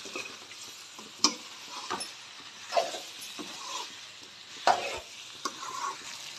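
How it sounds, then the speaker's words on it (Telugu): Chicken pieces for biryani sizzle quietly in a pan while being stirred, a low steady frying hiss broken by occasional scrapes and light clinks of the spoon against the pan. "చికెన్ ముక్కలు వేసుకోవాలి చికెన్ వేసుకున్నాము బాగా కలుపుకోవాలి"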